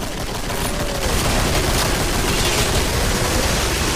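Dense, continuous gunfire from the video game Killing Floor, loud and unbroken for a few seconds as a single wash of rapid shots with no speech over it.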